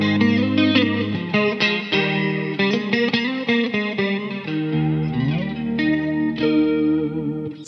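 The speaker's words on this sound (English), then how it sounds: "the reverb has a flanger modulation effect on it" Guitar chords and single notes run through a Big Top Effects pedal's reverb with flanger modulation, the swirling, sweeping tail washing behind each note. The playing is loud, sustained and unaccompanied.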